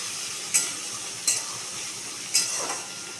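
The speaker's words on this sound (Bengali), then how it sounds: "এই পেঁয়াজটাকে আমি লাল করে ভাজবো" Onions fry in a pan with a constant, even sizzle, broken by three brief clinks of a utensil stirring against the metal.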